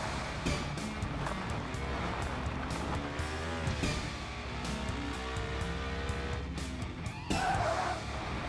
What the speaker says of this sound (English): I braked before I went off.